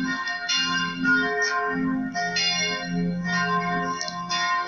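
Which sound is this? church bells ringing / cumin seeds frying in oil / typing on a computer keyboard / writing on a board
church bells ringing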